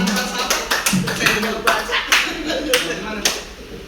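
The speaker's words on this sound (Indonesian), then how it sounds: "beri tepuk tangan buat Bu Haji Nur." Teachers applauding at a school session, a small group clapping hands in a steady series of sharp, close claps over light background talk.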